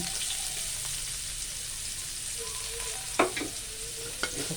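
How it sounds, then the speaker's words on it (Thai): Ginger stir-roasting in a little oil left in the bottom of a pan gives a steady, close sizzle, broken by a couple of sharp scrapes from a utensil near the end. "ยายก็จะเอาขิงลงไปคั่วให้หอมหอม"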